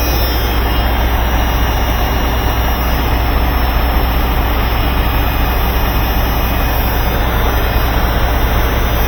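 A big engine runs steadily at a loud, constant roar with no breaks, heard close up and alone, at an off-grid setup that also has a fuel pump.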